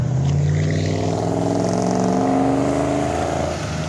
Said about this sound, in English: Yo, that van had some exhaust on it!